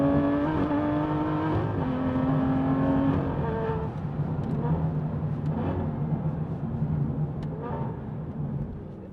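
An Aston Martin V12 Vantage drives along a twisty, bumpy UK road, its V12 engine humming steadily and close, shifting pitch as it climbs and eases through the bends.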